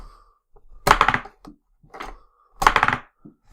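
A B-Daman marble-shooting toy fires single shots, giving two sharp, loud thunking snaps about a couple of seconds apart, with softer clicks and rattles between them and no talk.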